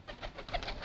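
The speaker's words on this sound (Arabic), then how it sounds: "عندنا هنا طيور المطاريد" Mutarid flying pigeons kept in Maysan give a brief, soft cooing burst lasting under a second, moderately close and heard without any talk.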